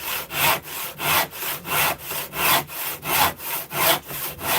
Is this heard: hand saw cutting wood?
yes